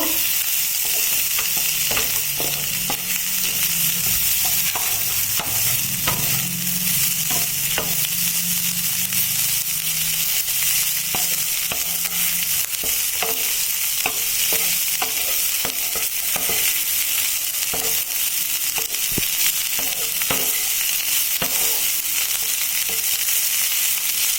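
Masala with coriander powder and a bay leaf being stirred in a frying pan for a Bengali cauliflower masala pithe: rhythmic spoon scrapes and clacks over a constant hissing sizzle, close and steady, with no talking.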